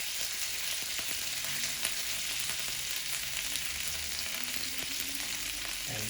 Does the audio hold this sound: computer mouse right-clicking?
no